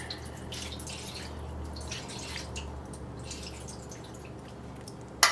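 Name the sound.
peach juice poured into pan of ribs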